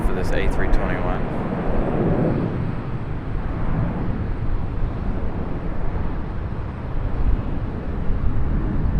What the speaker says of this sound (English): Very loud departure for this A321.